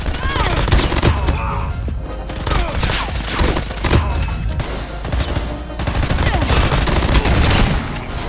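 Dense, rapid gunfire and explosions from the battle royale mode of Call of Duty Mobile, loud overlapping bursts and booms filling the whole stretch without pause, close and intense.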